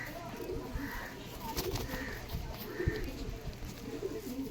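A pigeon held in the hand coos softly in a low rhythmic series of about three or four murmurs, close by against a steady background hiss and faint handling rustle.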